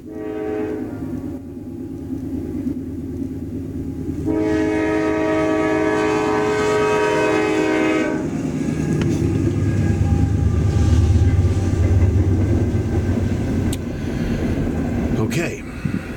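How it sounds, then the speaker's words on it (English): A passing train sounds its horn: a loud, sustained blast of a few seconds over a heavy rolling rumble of railcars that continues steadily after the horn ends. "Now give me a moment, here comes the train."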